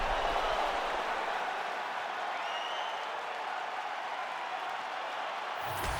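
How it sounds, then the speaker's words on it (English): A capacity crowd in the arena of the UFC 5 video game cheers and applauds between rounds of Robert Whittaker versus Paulo Costa, a continuous, even roar of distant voices and clapping with a faint whistle. "an appreciative capacity crowd on its feet as this next round gets underway"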